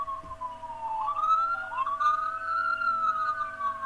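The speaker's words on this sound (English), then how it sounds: "Hold on, I got an ambulance." An ambulance siren wails nearby with a clear rising and falling tone, steady and fairly loud throughout, sounding over a low background hum.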